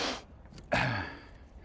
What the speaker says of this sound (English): Excuse the panting